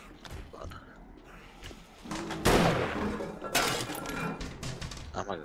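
Chaotic gunfire in 7 Days to Die during a zombie bear fight, with sharp shots and crackling bursts mixed with impacts, growing louder midway, with speech over the top.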